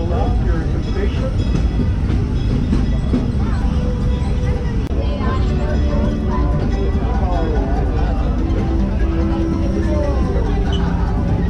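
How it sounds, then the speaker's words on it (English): Disneyland railroad train rolling into a station, a steady rumble with clattering wheels and mechanical noise, while a crowd murmurs and people talk nearby. "Get seated until the train comes to a full end here at the station."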